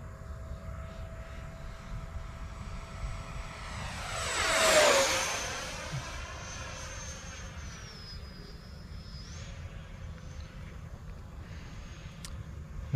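E-Flite F-16 Thunderbird 70mm model electric ducted-fan jet making a low pass, its whine rising as it approaches, peaking loudly overhead with a sharp pitch drop, then fading into a distant, faint hum.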